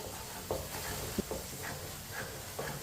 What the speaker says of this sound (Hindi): इसी तरह ना मिक्स कर लिया मैंने अंडों को चम्मच लाते हुए